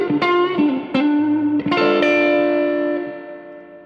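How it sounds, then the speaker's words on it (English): Fender Blues Junior guitar amplifier with its reverb turned up to twelve o'clock: a few strummed and picked guitar chords ring out close and loud, each attack trailing into a long washy reverb tail that slowly fades. "Just for giggles, I'm going to put it to 12 o'clock on the dial for the reverb so you can hear it."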